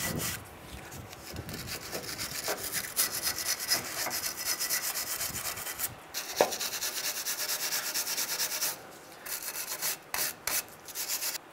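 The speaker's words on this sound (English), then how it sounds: "clean up where our new brake hardware is going to go, right here, top and bottom. We're just getting rid of any loose corrosion" Steady abrasive scrubbing as loose corrosion is cleaned off the brake hardware mounts, top and bottom, on a 1992-1996 Ford F-150 front brake; continuous close rasping strokes with brief pauses near the end, no talk.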